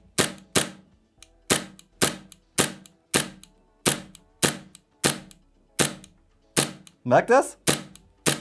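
Novritsch SSQ22 gas blowback airsoft pistol firing 6mm BBs, a steady series of about fifteen sharp, close shots with a speaking voice cutting in near the end.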